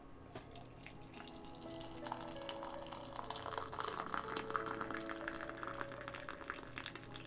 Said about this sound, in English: Let me pour you the tea.